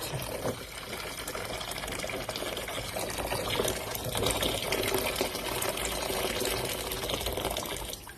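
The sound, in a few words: boiling water poured for scallops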